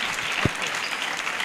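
A church congregation applauds in a brief, dense wash of clapping, loud and close, with one low thump partway through.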